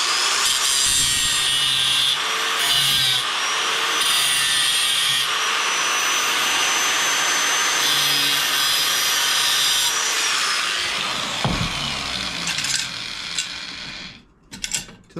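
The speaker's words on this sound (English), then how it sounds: "normally I do this with a file because it's easy to take out too much with the grinder" An angle grinder shapes a metal part for a rocket stove, giving a loud, sustained high whine with short bursts and pauses, then winding down and stopping near the end.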